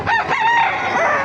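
A rooster crows at a chicken market in Bocaue, Bulacan, one loud close call with a wavering, drawn-out tone.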